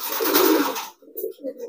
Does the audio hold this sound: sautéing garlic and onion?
no